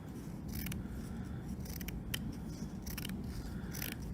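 Sharp scissors trimming cross stitch fabric around the edge of a design, a series of crisp, close snipping cuts in an irregular rhythm over a low background hum, with no talking.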